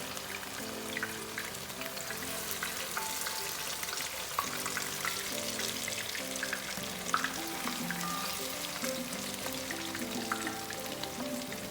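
Chicken 65 pieces fry in oil over a medium flame, giving a continuous, dense sizzle with scattered pops and bubbling that hold steady throughout, with no talking.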